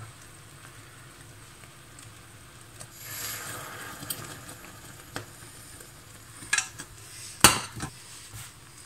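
Caramel is stirred in a pot with the heat off: soft scraping and clinking of a utensil against the pot sides, with a few sharper metallic knocks toward the end and a faint sizzling undertone.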